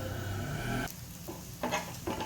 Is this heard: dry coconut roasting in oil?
yes